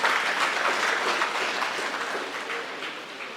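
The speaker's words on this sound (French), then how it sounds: "Applaudissez les chorus." Applause for a choir at a patronal feast of Saint Elisabeth in Mbour, a dense crowd of clapping hands that holds steady and slowly tapers off, with no voices over it.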